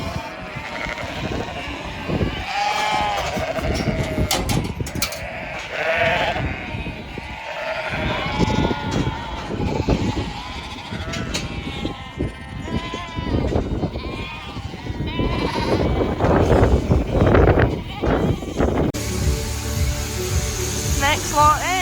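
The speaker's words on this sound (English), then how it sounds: "So ewes are getting shed out here, the lambs are going up out the back" A crowd of ewes and lambs bleats continuously and loudly, overlapping calls near and far, while being sorted and shed apart at a farm ahead of shearing, with movement and bustle throughout and speech partly mixed in.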